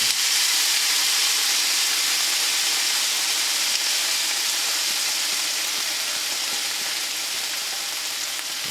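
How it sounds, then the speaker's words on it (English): Vegetables for seafood pasta sizzle loudly and steadily in a hot pan, a dense continuous hiss filling the whole stretch without any talk. "It's probably gonna be a little sizzle."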